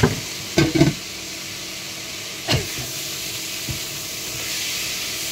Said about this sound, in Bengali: একটু ঢাকনা খুলে নেড়ে দিই।